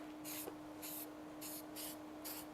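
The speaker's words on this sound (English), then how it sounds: "You just simply lightly mist it on." A spray bottle lightly mists protectant onto the plastic parts of a car engine bay, five short, soft hissing spritzes spaced about half a second apart, close and quiet with no talk.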